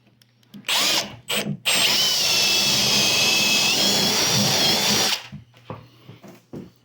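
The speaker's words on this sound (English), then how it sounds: "I'm going to drill a hole through it so I can get a wire through there." A power drill whines loudly and steadily for several seconds as it bores through a wooden wall stud, with short bursts of the motor before and after.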